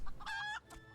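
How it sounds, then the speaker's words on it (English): Rooster crowing in the video game Final Fantasy XIV, a tamed bird painted green, giving one short, bright, close crow with a clucking lead-in and a brief trailing call. "I tamed a rooster and painted it green"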